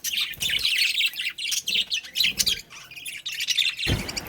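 Lovebirds chirp and squawk close by in rapid, shrill bursts, overlapping in quick busy repetition.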